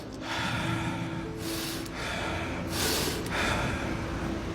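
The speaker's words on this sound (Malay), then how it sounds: "Kita tarik nafas." Deep breaths drawn in close to the microphone: two or three long, airy inhalations rising and fading over a few seconds.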